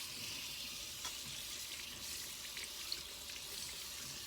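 Tap water running onto a plate to rinse off soap, a steady, soft hiss of flowing water close by with a few faint clinks.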